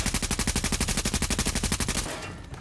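Rapid automatic gunfire from The Division, loud, close, evenly spaced bursts that run for about two seconds before cutting off into a faint tail.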